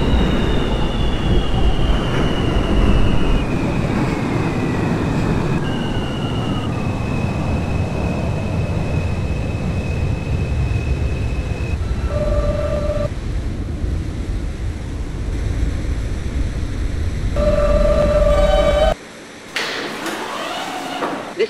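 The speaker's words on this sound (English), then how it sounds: "This is a Manhattan-bound F local train." An R160A-1 F subway train runs in the OpenBVE simulator, rolling out from West 8th Street–NY Aquarium. There is a loud, steady rumble of wheels and motor with rising whine tones and door chimes, and the sound cuts off abruptly near the end.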